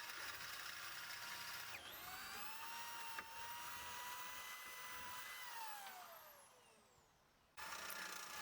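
A power drill whines steadily at close range, its pitch sagging as it bites into steel tubing, then winding down and stopping before starting again.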